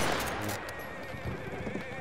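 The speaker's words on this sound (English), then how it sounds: "It's a horse running around up at sea." A horse whinnies loudly and close by during Battlefield gameplay, a shrill, wavering neigh over rumbling battle noise.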